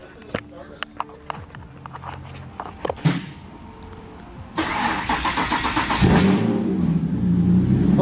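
A Mercury Cougar's engine cranks and fires up after a few clicks, then settles into a loud, rough running note that grows and revs up close, with people talking in the background.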